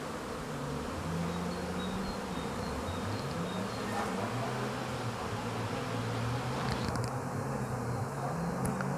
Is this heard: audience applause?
no